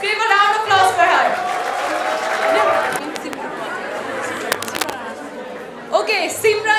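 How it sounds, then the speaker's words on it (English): A room of people applauds a gift hamper winner at a youth event, scattered clapping mixed with loud chatter and talking voices throughout, with a few sharp claps standing out. "Let's give a round of applause for her."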